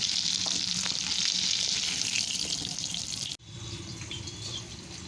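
Soybean chunks dropped one at a time into hot oil, frying with a strong close sizzle that softens after a sharp break partway through.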